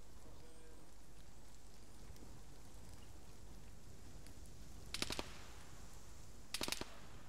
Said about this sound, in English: Shots north, northeast